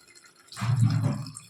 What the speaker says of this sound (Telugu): ఇందులో మనం కొన్ని వాటర్ పోసుకుందాం